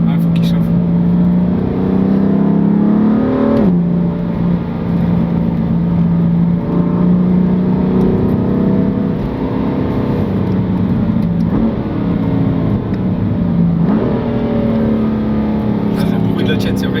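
A car engine drones steadily and loudly from up close on a wet Nürburgring track in the rain, pitch easing at a few points between throttle changes, with nobody talking over it.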